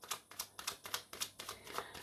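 Tarot cards being shuffled by hand, a quick run of crisp riffling snaps and flutters in an uneven rhythm, close and fairly quiet, with no voices.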